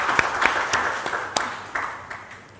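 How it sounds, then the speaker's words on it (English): A webinar audience gives a short burst of applause, sparse and uneven with a few distinct sharp claps over a soft spread of clapping that fades out. "Let's give another big round of applause."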